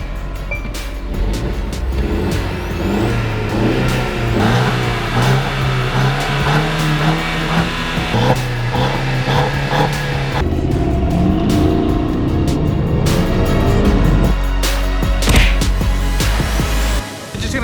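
An Audi A4 B9 or Mercedes C300 with an aftermarket exhaust revs hard, the engine note climbing and falling through several sustained rises, loud and close throughout with no talking.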